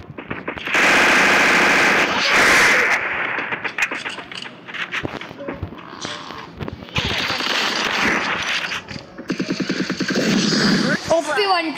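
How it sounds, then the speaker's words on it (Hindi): Rapid, loud MP40 submachine gun bursts ring out in a custom-room shooter video game, firing in repeated automatic volleys with a voice talking over the gunfire. "चलिए मैं MP40 से मारता रहूँगा।"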